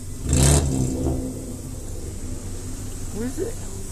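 A Skoda car engine gives one brief, loud rev near the start, then settles to a lower idle-like hum, with a voice talking nearby.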